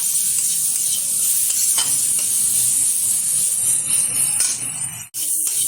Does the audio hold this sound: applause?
no